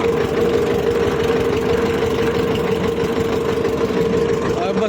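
A farm tractor engine runs steadily on the road to the grain market, a continuous close mid-low drone with no pauses.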